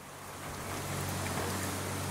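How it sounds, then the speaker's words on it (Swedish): Strong wind blows outside in a steady roar that rises slightly and then holds, alone with no voices. "Det blåser som bara den ute."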